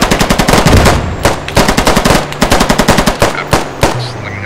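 Rapid bursts of machine gun fire in a video game ambush on a Bradford vehicle, loud and close, in several rattling volleys with short gaps between them and no talking over the shots.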